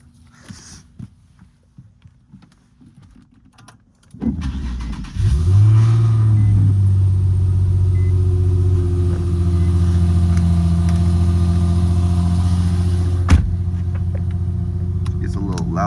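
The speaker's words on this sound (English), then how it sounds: "Gotta do a little cold startup for y'all." Infiniti G37/G35 cold start: after a few quiet seconds the starter cranks and the engine catches with a loud surge, then settles into a high, steady, rumbling fast idle that continues to the end.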